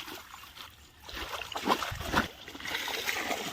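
Water splashes and sloshes in short bursts as fish are washed in a canal, close by, with a few louder splashes in the middle and a steady watery background.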